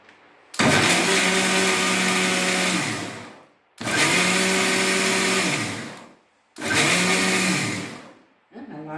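Electric mixer whirring loudly as it beats banana cake batter, running in three long bursts with short pauses between.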